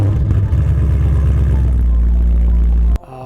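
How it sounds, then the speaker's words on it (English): A car's exhaust picked up at close range, loud and steady with a throbbing low rumble that settles into a smoother drone before cutting off abruptly near the end. "recording some clips where I basically put the microphone next to the exhaust"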